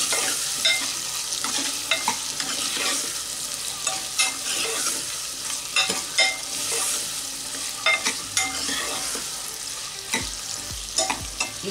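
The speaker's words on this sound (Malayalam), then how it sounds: "കുറച്ച് നേരം ഒന്ന് ഇളക്കി കൊടുക്കുക." Tomatoes frying in a pan, stirred steadily, giving a continuous close sizzle with frequent scraping taps of the spoon throughout, no voices.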